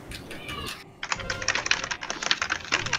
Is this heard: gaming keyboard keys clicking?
yes